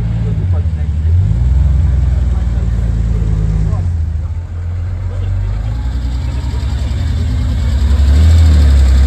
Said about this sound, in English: Another Porsche pulling in.